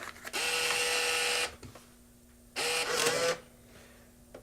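SEM CT3 tester's bill validator accepting a $5 bill: two loud motorized whirring pulls, the first about a second long, the second shorter, each steady and buzzing, alone without talk.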